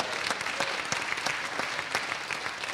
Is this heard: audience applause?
yes